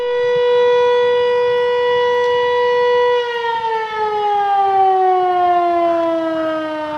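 A loud civil-defense alarm siren at a pumping station wails steadily, then its pitch begins slowly sinking, a sustained mechanical tone with no voices.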